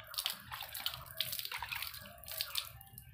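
Water splashed onto a face during a Holi colour wash-off, faint close splashes and drips coming in a few quick bursts, no talking.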